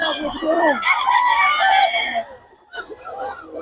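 A gamecock rooster crows loudly and close, giving a long strained call and then a shorter second crow, with brief clucking and some faint voices around it.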